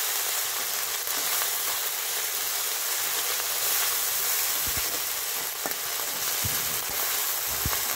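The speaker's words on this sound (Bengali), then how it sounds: "আদা বাটা এবং রসুন বাটা দিয়ে নিলাম, একসাথে মিশিয়ে ভেজে নিচ্ছি" Onion frying with ginger and garlic paste for a beef curry hisses in a continuous, close sizzle with a crackle like rain, plus a few faint taps near the end.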